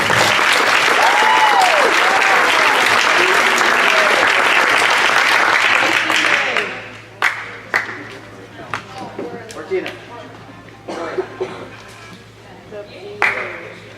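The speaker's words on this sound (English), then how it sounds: "Give them a big round of applause" Audience at a high school athletic awards night applauding athletes, loud dense clapping for several seconds that then thins to scattered individual claps, with voices in the room.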